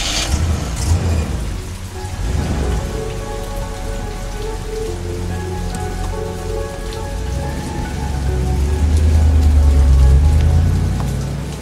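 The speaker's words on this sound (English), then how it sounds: "I'm left standing in the rain" Steady rain falls hard at night, a dense wash of drops hitting surfaces, with a low rumble swelling toward the end and a faint tonal hum underneath, loud and close with no talk.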